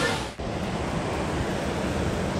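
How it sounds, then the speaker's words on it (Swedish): Kawasan Falls waterfall, a dense steady rushing roar of falling water, loud and close, continuous throughout with no voices. "Fan, det är bra vattenfall."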